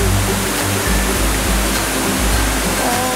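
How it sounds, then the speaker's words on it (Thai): Tad Sae waterfall near Luang Prabang, Laos, roars as a loud, steady rush of falling water, dense and continuous, with a low rumble underneath and no voices. "อันนี้ก็เป็นน้ำตกที่สีสวย"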